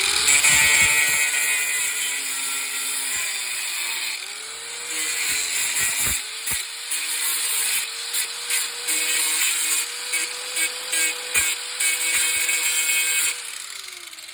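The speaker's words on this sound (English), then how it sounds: "now I'm going to use the grinder again, and I'm just going to trim some of that off of there" An angle grinder trims metal during a KingSong S22 electric unicycle shock install, whining loudly and continuously with its pitch dipping and recovering as it bites the workpiece in a series of short cuts.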